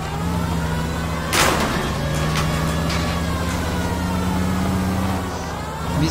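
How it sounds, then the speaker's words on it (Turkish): A police car siren wails continuously in L.A. Noire, holding a steady tone over a rumbling vehicle engine, with a sharp crash or impact partway through. "Oo vay hadi. Sireni de çalıştırdı."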